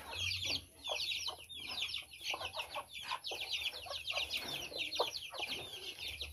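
Chickens clucking and chicks peeping in rapid, overlapping chirps, steady and fairly close, with a busy flock chatter throughout.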